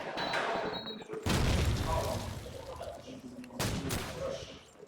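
Gunfire and a grenade explosion in Call of Duty 2 during a LAN grand final match, a sharp burst of shots, then a loud boom and later another blast, under a commentator's voice.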